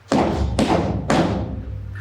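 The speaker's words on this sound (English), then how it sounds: "With this, she banged loudly upon the door." Three heavy, booming knocks pound on a door with a staff in a slow, even rhythm, each blow loud and resonant with a rolling tail, and nothing else is heard between the strikes.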